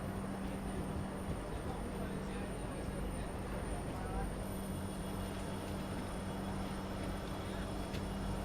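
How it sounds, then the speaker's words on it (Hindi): The Ernakulam–Pune Purna Express, hauled by twin diesel locomotives, gives off a steady, loud rolling rumble with a faint constant hum throughout. "यहाँ अपने ट्विन डीजल लोकोमोटिव।"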